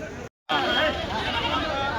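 Male goats bleat at a busy weekly goat market in Kadiri, one wavering bleat rising over crowd chatter and background voices after a brief cut, fairly close and loud.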